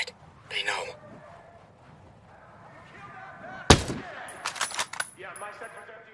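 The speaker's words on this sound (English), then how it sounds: "We're taking incoming rounds." Incoming gunfire in a military video game: one sharp loud shot cracks mid-clip, followed by a flurry of smaller impacts and clatter, with low rumble and muffled voices around it.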